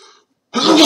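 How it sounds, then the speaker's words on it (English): A single loud, close sneeze bursts out abruptly after a short spoken sound and a moment of silence. "Excuse me on that sneeze."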